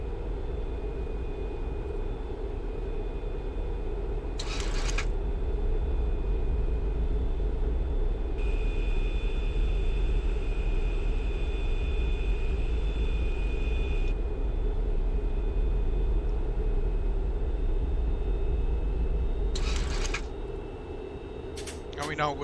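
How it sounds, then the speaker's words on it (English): Airliner spoilers extended during descent on a flight from Miami toward Cancun produce a steady, loud cabin rumble and roar with a constant hum, while a person talks over it and brief clicks break through now and then. "That sound is the spoilers, we've extended them a little bit, so help the airplane to slow down."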